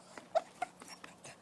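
A dog gives a few faint, short whimpers and soft whines near a deer, scattered over a quiet background with light breathing between them.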